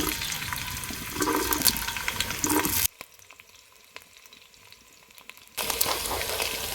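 Onions sizzling as they fry in oil in a pot over a fire, a bright crackling hiss with stirring scrapes that cuts out abruptly to near quiet for a few seconds before the sizzle returns.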